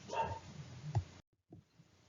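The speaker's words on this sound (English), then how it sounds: "I apologize if you can hear my dog" A dog gives a single faint, muffled bark followed by a softer yip after a short pause, somewhat distant indoors and heard alone.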